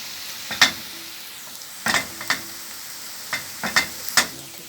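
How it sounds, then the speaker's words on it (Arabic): Minced meat fries in a pan under a low continuous sizzle, punctuated by about eight sharp close spoon clacks and scrapes in irregular bursts as it is stirred, no voices. "كده داخل خلاص على تحمير اهو"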